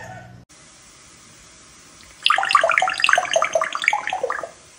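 After a quiet stretch, water suddenly gushes and splashes loudly for about two seconds, then stops.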